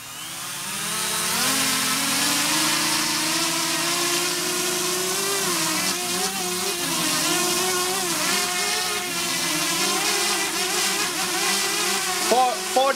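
An electric motor driven by a custom ESC with a KK2 board, held at 20% throttle, hums steadily and loudly for the whole stretch with slight wavering in pitch.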